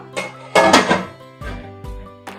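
A lid being set on a pot of Telangana-style crab curry, several close metallic clanks and knocks in quick succession.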